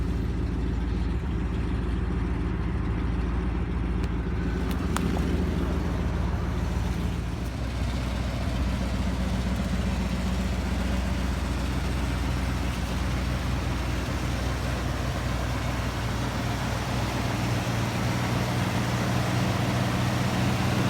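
A 1972 Lincoln Mark IV engine idles steadily after starting, a low, even rumble that holds at a constant level throughout with no talking.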